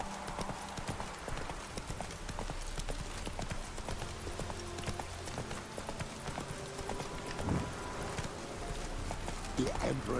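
Roach, a horse in the video game The Witcher 3, trots with steady rhythmic clip-clop hoofbeats that run the whole time under game music and ambience.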